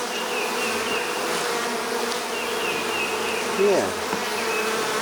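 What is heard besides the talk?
bees buzzing during a top bar hive inspection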